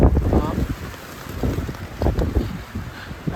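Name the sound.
strong wind and rain on a fishing boat at sea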